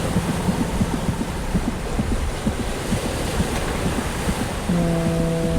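Stormy sea waves crash and churn in a loud, steady roar with gusty wind noise, and a low sustained tone swells in near the end.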